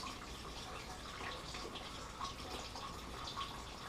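Coolant drains from a car's cooling system below the thermostat, a faint steady trickle and splash of liquid with small drips, heard close and alone.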